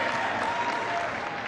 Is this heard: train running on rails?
no